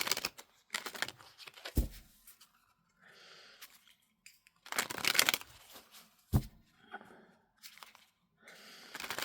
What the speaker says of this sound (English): I still want to carry on shuffling